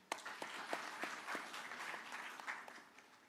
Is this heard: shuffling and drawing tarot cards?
no